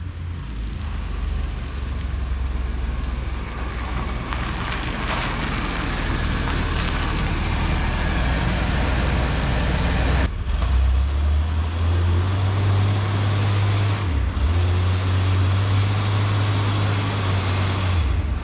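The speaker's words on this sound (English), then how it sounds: "Let's pull it around front here so we can show you a full overview of the brand new vehicle" A 1999 Chevy Blazer with a 4.3 liter engine drives around, a steady engine and road rumble with a low idle-like drone after a brief break, fairly loud and without talk.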